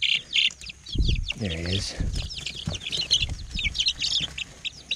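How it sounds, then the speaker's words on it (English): Small farm chickens clucking and chirping in bursts near the recorder, with a person speaking briefly over them in the middle. "These are some of our chickens, smaller of the set."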